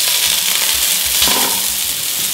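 Sweet potatoes fry in a pan with a steady, close hiss of sizzling oil, broken by a few faint clinks from stirring.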